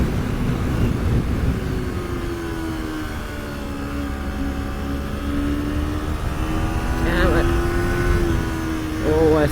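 A Kawasaki Ninja 250R motorcycle rides along a road, its engine holding a steady drone that rises and falls in pitch as the bike speeds up and shifts, loud and continuous against wind rush.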